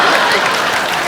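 A studio audience at a comedy show claps in dense, steady applause, loud and close, filling the brief moment without a break.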